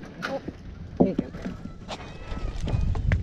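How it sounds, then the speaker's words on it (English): Several goats run past together on a farm, with scattered hoof patter and thumps nearby, under a voice calling and talking. "Goat stampede."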